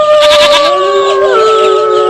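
A single loud, wavering bleat from a sheep or goat, close by and alone.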